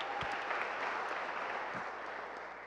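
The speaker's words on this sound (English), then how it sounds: "So let's give a round of applause to Jake there." Applause at an entrepreneurs' demo day, steady dense clapping from an indoor audience, continuous and moderately distant throughout.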